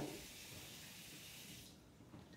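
Tap water runs steadily over potatoes being rinsed of starch for mashed potatoes, a close, even hiss of splashing flow that cuts off near the end.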